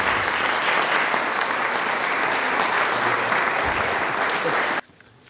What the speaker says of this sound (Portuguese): Uma salva de palmas ao Walter.